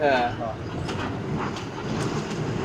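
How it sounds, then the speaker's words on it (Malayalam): A moving train rumbles steadily with occasional rattling clicks of the carriages, and a voice speaks briefly at the start. "തിരുവനന്തപുരം പോകുന്ന നല്ല ട്രെയിൻ"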